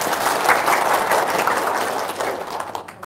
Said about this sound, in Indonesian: Wow, tepuk tangan dong.